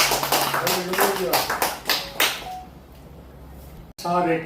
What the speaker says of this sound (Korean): 다시 한번 뜨겁게 박수를 해주십니다